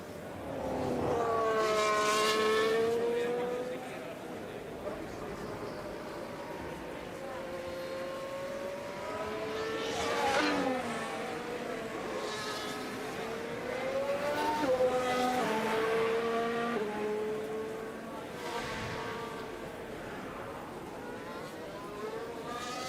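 Formula 1 race cars from the F1 Manager 24 racing game scream past in a series of loud, pitch-sweeping engine passes, gears rising and falling as they stream down a straight at the British circuit.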